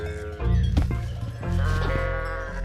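Goats bleating loudly and close by as they are made to jump a barrier, two strained, wavering cries one after the other, each held for around a second.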